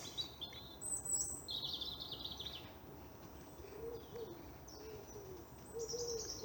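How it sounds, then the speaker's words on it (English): Wood pigeon cooing among other birdsong in winter woodland at Central Park, Plymouth; soft hooting coos repeat under higher chirps and whistles, moderately distant, with no talking. "You can hear the wood pigeon there"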